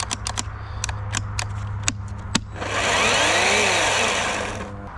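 An Einhell GC-KS 18 Li cordless chainsaw running on a fully charged 4 Ah battery gives a few sharp clicks, then its motor whirs up to a steady whine for about two seconds and winds down.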